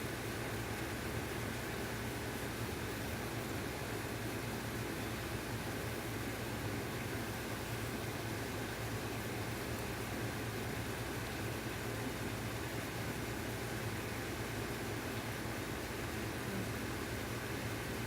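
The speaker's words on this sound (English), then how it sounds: "As you can hear in the background, I have the air conditioner running" An air conditioner runs indoors on a hot day as a steady, unbroken broadband hiss and hum that holds at the same moderate level throughout, with no talking.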